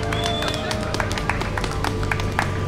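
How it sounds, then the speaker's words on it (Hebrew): A city-centre crowd in Bratislava claps for a flying car that has just turned from plane into car, dense rapid applause with sharp individual claps, steady throughout under background music. "מרכז העיר קיבל אותו במחיאות כפיים"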